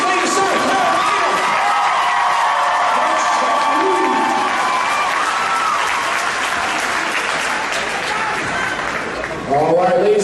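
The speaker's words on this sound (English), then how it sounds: "Another big round of applause for the best coach in the state of South Carolina." Sustained loud applause and cheering from a crowd at Goose Creek High School's Integrity Day ring ceremony in South Carolina, a dense wash of clapping with whoops, a voice rising briefly near the end.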